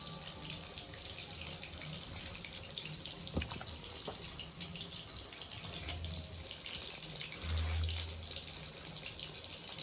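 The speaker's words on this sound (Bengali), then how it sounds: "আমি গোটা গোটা এইভাবে জলে ধুয়ে নেব, ধুয়ে তারপরে কাটবো।" Whole fish being rinsed under a running kitchen tap, a steady close hiss of flowing water with faint splashes, while distant wedding-band music plays in the background.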